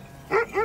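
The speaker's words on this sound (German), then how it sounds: "Um die Tiere vor Wölfen zu schützen, begleiten kräftige und wilde Hunde den Trupp der Grasfresser." A couple of short, close dog barks or yelps from a herding dog guarding a flock of grazing animals against wolves, two quick vocal bursts over near-quiet background.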